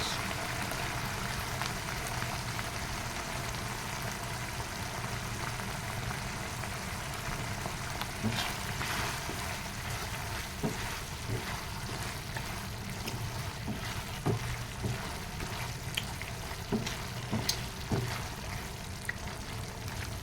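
Corned beef with onions frying in a pan, a steady soft sizzle and crackle running throughout with faint scattered pops, close and even in level with no talking.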